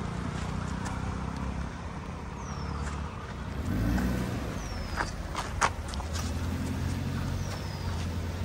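A 2023 Maruti Suzuki Baleno creeps slowly over a small culvert, heard as a steady, low engine and tyre rumble from nearby, with a few faint squeaks and a soft thump midway.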